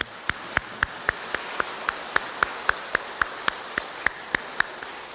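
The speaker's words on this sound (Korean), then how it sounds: "감사의 박수 드립니다." Regular, evenly spaced sharp claps, about three per second, from a church congregation at an Easter Vigil Mass, ringing in a reverberant space with no talk over them.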